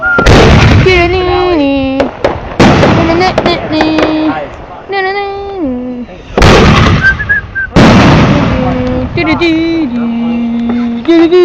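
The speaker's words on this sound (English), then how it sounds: "Fireworks going off." Fireworks burst in several loud, broadband cracks and rumbles while people keep up a sung, melodic vocalizing throughout.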